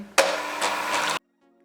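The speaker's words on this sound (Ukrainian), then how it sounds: "Для початку до стійкості збиваємо білки." Electric mixer whipping egg whites for a cherry layered cake, a steady close whirring hum that starts abruptly and runs for about a second before cutting off to near silence.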